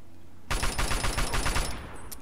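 Rapid automatic gunfire from a weapon in the video game Fallout 3 bursts in loud and close after a brief quiet start, a steady stream of shots for under two seconds before easing off.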